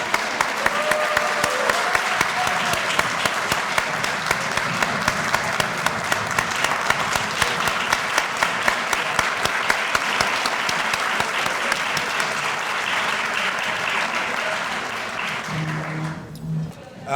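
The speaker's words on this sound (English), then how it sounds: "And give yourself a round of applause" A luncheon crowd at a minority and women owned business event gives a long, loud round of applause, dense clapping sustained for about fifteen seconds before it thins out and fades near the end.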